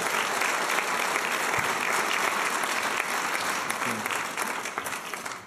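Audience at a Cuesta College awards luncheon clapping to welcome a speaker, a loud, sustained burst of applause from a full room that tapers off near the end.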